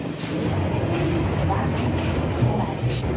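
A London Underground tube train runs with a steady, loud rumble and rattle from inside the carriage, with faint squeals and people talking over the noise.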